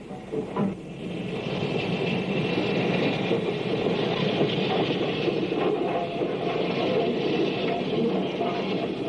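Union Pacific Big Boy articulated steam locomotive rounding a curve, a steady, dense rumbling roar with grinding mechanical texture that holds constant throughout, loud and close with no voices.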